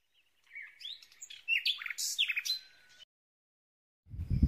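A bird calls outdoors with a quick series of bright, warbling chirps and whistles lasting a few seconds, fairly close and clear, followed by a low rumbling noise.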